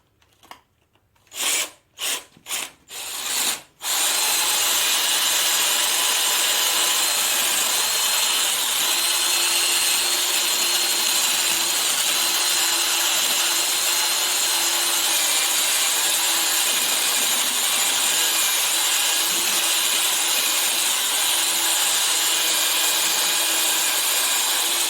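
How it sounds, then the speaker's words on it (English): A few short bursts of a round wire brush on threaded rod spun by a hand drill, then a long continuous high whir and scrub as it runs steadily against a McCormick Deering 3 hp engine's metal, close and loud. "all it is a round brush on an all thread in a hand drill"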